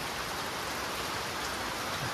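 Steady rain falling at night in hill country, a dense continuous patter on a surface, even and moderately loud with no voices.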